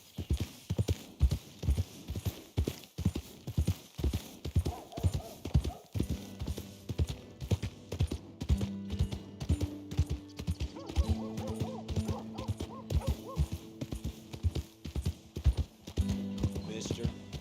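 Rhythmic hoofbeats of a galloping horse in the video game Red Dead Redemption 2 pound steadily throughout, with a brief whinny and soft game music tones joining midway.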